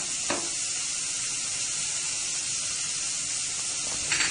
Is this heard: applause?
no